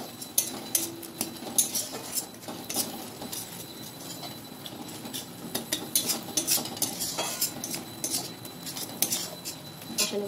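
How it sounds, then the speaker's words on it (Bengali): Spices with garam masala being stirred and sautéed in a pan, metal spoon scraping and clinking against the pan in a busy, irregular rhythm with a soft sizzle underneath, close and steady throughout. "গরম মশলাটা দিয়ে কষিয়ে নিই"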